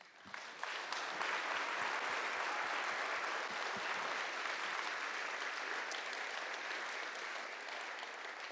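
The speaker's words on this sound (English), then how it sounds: "rton, Mike Poulsen, and Fred and Lura Harris with a final round of applause." Sustained, dense applause from a hall crowd honoring agriculture hall of fame inductees at an awards ceremony, starting with a few sharp claps and then rolling steadily at full volume with no talk.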